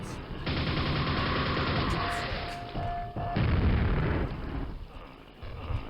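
Grenades blowing up in Quake 1 make a loud, sustained roar of booms and crackling gunfire, with a second heavy wave of blasts hitting partway through before fading.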